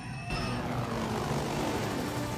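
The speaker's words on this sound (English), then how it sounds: "That takes a lot of skill to be able to pull that helicopter out of a tailspin." Helicopter from a TV show pulling out of a tailspin, a steady, dense rotor and engine roar that swells after a brief quieter moment and holds at a constant, fairly loud level throughout.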